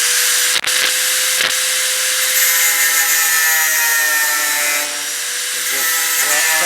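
A power tool grinds the tops off welds on steel sheet metal patching rust holes in a GTO body, a steady loud whine with a few sharp bursts and pitch shifts as it cuts across.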